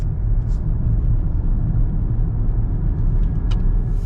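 A Porsche Cayenne S V8 4.5-litre on a road test just after an automatic gearbox fluid change gives a steady, loud engine drone and road rumble heard from inside the cabin, with no one talking.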